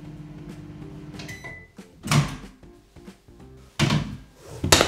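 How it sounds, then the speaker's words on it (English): A microwave oven heats a slice of bread with a low steady hum close by, a short beep and a couple of loud thunks from the door opening and closing. "So the first thing they've done was actually put the bread in the microwave."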